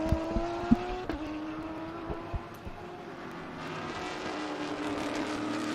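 Trans Am race cars, roughly 900-horsepower machines with no driver aids, run in qualifying at Sebring, their engine drone carrying steadily from a distance with a few sharp knocks and a rising pass near the middle.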